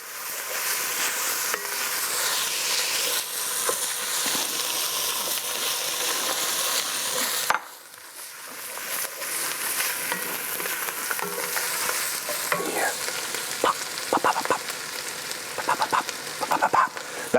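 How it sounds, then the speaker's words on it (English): Arborio rice toasts in a pan for mushroom risotto, giving a bright continuous sizzle with a sharp break midway, then crackles and stirring scrapes, close and alone. "That's the rice toasting."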